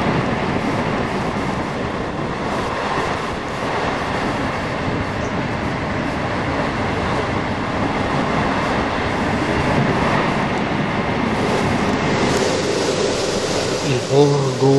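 An Italian train runs along the rails with a loud, unbroken rumble and a faint rhythmic clatter of wheels heard from inside the carriage, and it keeps going for the whole stretch.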